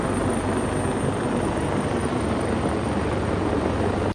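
Helicopter flying over a search area along a canal between Dolo and Stra, a steady, dense rotor and engine roar that holds evenly throughout without voices, then cuts off abruptly.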